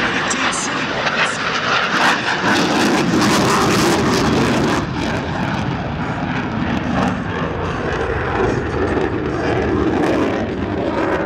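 A US Navy F-18 Super Hornet jet flying a square loop at the Miramar air show, its loud, steady engine roar filling the air throughout with slight swells, under a public-address announcer talking.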